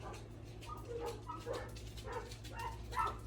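Several dogs at an animal sanctuary let out faint, intermittent barks and yips in the distance, each call short, over a constant low background hum.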